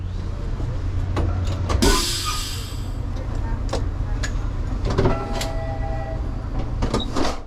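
VIA Rail sleeper train with Renaissance coaches departing and running, a steady low rumble with occasional clanks, squeals and door or window noises over continuous rolling noise.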